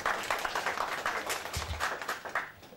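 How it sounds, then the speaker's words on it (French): An audience claps at the launch ceremony of the Malidjama network, a dense, continuous patter of many hands heard at moderate loudness throughout the short stretch. "Je vous demande d'applaudir Amidou Bari."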